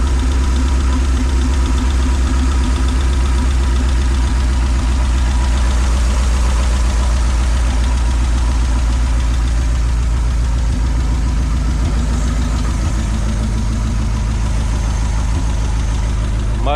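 A 76-year-old Pontiac engine runs steadily at a loud, close idle with a rough, knocking beat and a low rumble, continuing alone without talk throughout.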